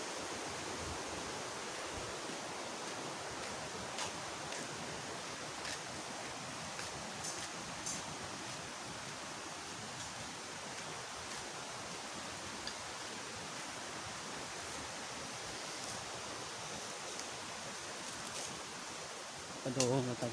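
Kasabangan Waterfalls on Biliran island rush as a steady, broadband roar of falling water, heard from a distance and fairly faint, unbroken for the whole stretch.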